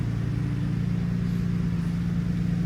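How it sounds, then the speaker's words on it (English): A Nissan Stagea Autech 260RS with an RB26DETT engine, HKS front-mount intercooler and SSQV upgrade idles close by, a steady, deep, throaty rumble that holds even and loud throughout with no voices. "The sound of this car is exactly what it should be."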